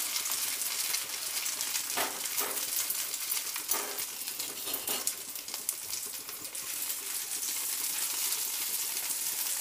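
Aloo tikki potato patties sizzling in hot oil, a steady bright crackle and hiss throughout with a few louder spatters and pan clinks, close and continuous with no talking.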